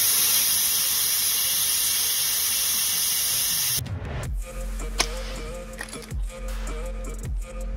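A vacuum chamber pumping air out around S&S engine tappets soaked in oil: a loud steady hiss that cuts off abruptly, then a low pump rumble with intermittent clicks and knocks nearby.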